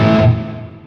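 A single distorted electric guitar note through a Line 6 HX Stomp delay effect rings out loudly, then fades away through a short echoing tail.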